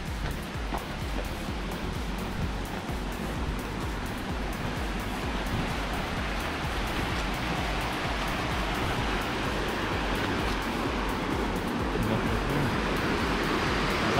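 Steady broadband roar of a waterfall, Cachoeira do Negherbon in Doutor Pedrinho, Santa Catarina, heard from a forest trail above, continuous and fairly loud with no talk.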